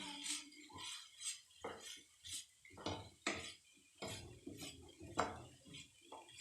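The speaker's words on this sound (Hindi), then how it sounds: "हमें इसको इसी तरह से 1-2 मिनट तक थोड़ा सा इसके अंदर हाई फ्लेम पर फ्राई कर लेना है" Shredded cabbage being stirred in a pan on high flame, with repeated metal utensil scrapes and clinks against the pan in an uneven rhythm, close and fairly quiet, without audible sizzle.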